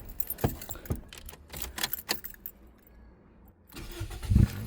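A Toyota Yaris T Sport with a newly replaced starter motor cranks briefly and fires, a short loud burst near the end after clinking key sounds and handling noise close by.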